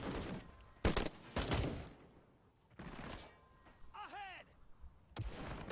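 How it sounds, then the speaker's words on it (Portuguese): Gunfire in the military game Call to Arms, with several sharp loud cracks among distant battle rumble, including a sniper rifle shot. A voice cuts in briefly partway through. "Nossa, tiro de sniper, eu escutei daqui."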